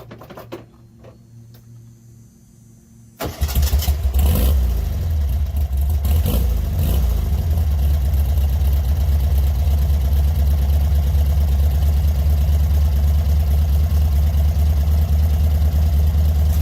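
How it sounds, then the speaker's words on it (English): A stock 1300 flat-four engine in a 1966 VW Beetle, left sitting for months, fires up after a quiet moment and settles into a loud, steady close-up idle with no talking. "This thing can sit for months on end and trick a little gas in the car, bump it one time and she fires."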